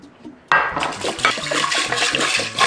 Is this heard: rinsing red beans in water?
yes